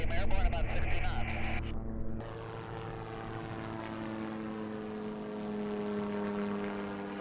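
Experimental flying car, registration 304 Tango Fox, airborne just after takeoff at about 60 knots, with a steady droning propeller engine hum in the cabin and a voice speaking briefly at the start.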